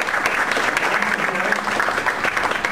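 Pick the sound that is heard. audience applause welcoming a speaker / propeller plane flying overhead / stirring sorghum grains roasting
audience applause welcoming a speaker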